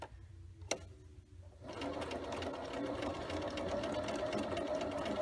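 A sewing machine stitching curved quilt block fabric starts after a quiet moment with a click, then runs in a steady, fast mechanical whir, close and continuous.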